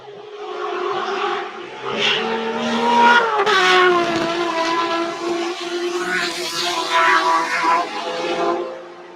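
A high-revving, naturally aspirated inline-six race car engine screams through rising and falling revs, loud and close, with sharp gear changes and a smooth, metallic wail.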